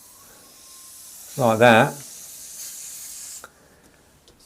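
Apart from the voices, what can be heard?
airbrush spraying paint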